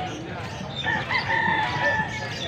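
A young stag rooster crows at a chicken market in Angeles, Pampanga, one drawn-out call at moderate distance amid crowd noise and background chatter.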